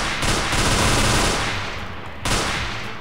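Rapid, dense gunfire from the admin pistol in the video game Garry's Mod, a continuous loud burst that drops out briefly before another volley, close and without speech.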